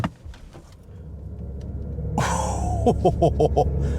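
A low rumble swells into a synthetic, rising whir with pulsing tones, the 2024 Rolls-Royce Spectre electric coupe's artificial acceleration sound building steadily at full throttle.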